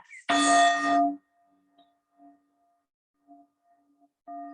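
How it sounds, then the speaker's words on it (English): A single yoga-session bell rings out once, a bright sustained chime that decays quickly, followed by faint soft tonal pings and a second strike starting near the end, in an otherwise quiet room. "So very shortly you'll hear a bell"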